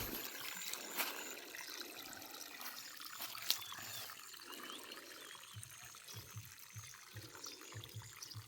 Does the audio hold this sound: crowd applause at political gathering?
no